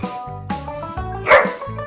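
A pet dog barks excitedly indoors amid household commotion, a rapid series of loud, close yaps and bow-wows with brief whimpering pitches between them.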